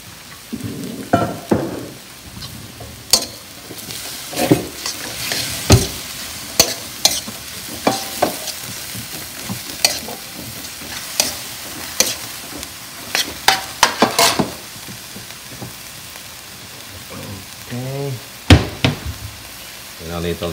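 Beef and chayote squash tops being stir-fried with oyster sauce, with a steady sizzle under repeated sharp scrapes and clacks of a utensil against the pan, close and fairly loud.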